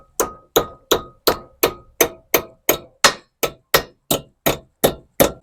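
Sixteen sharp metallic clangs from steady hammer blows at an even rhythm, each ringing briefly before the next strike.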